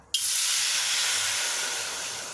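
Water hits a hot pan with a sudden loud hiss that settles into steady sizzling steam, close up and with no talking, as a glass of water goes onto roasted hand-made vermicelli.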